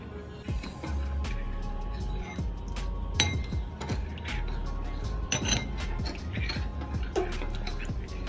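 A metal spoon mixes honey and other ingredients in a bowl, giving sharp clinks against the side and soft wet stirring sounds in an uneven rhythm, close and fairly loud.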